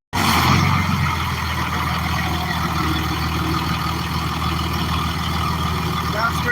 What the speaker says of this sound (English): She's a loud truck.